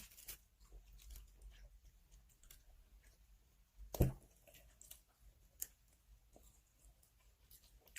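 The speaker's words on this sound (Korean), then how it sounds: "내가 쩝쩝거리진 않는 스타일인데 쩝쩝거리게 되 이게" Someone chews crunchy Nemo snacks close to the mic, with soft crunches and clicks scattered through the quiet and one sharp bite standing out partway through.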